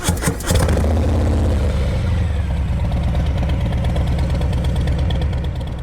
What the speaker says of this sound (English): the sound of a Harley-Davidson.